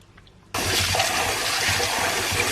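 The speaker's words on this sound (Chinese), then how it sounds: "这样多抓一会儿就清洗的比较干净" Pork intestines being rinsed and scrubbed by hand under running water for a spicy-sour noodle dish; after a quiet start, a steady loud rush of water pours and splashes continuously, close by.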